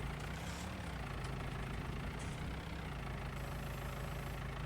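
Small tow motor engine idling in Farming Simulator 19, a continuous low, even hum with faint clicks and a thin high whine joining near the end.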